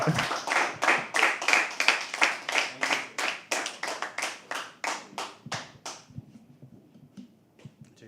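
An open-mic poetry audience claps together in a steady, rhythmic beat as a poet walks on stage. The claps are loud and evenly spaced, then trail off into scattered faint taps and quiet.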